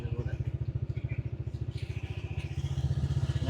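Motorcycle ridden over sand near a village temple on the Jaffna islands, its engine thudding in a close, fast, regular pulse, with a faint voice briefly in the background.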